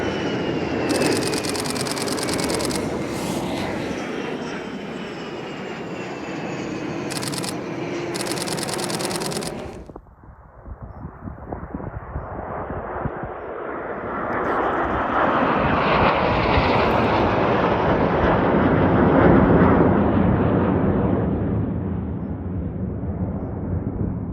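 Red Arrows aerobatic jets flying formation practice at RAF Scampton, a loud sustained jet roar passing overhead, dipping briefly before swelling again into a broad, rumbling wash of engine noise.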